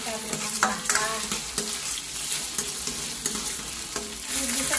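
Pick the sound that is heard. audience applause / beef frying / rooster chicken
beef frying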